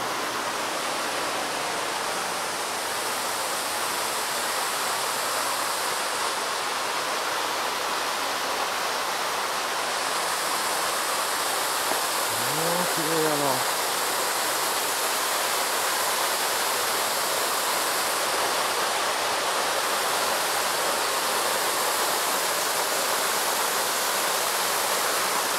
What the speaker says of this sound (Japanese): 滝っていうのが 30m って書いてるんだけど